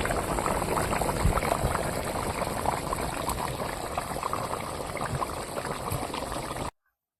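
Taro and katla fish curry reaching a boil in a clay pot in a village kitchen: steady, close bubbling and hissing that runs unbroken and then cuts off abruptly.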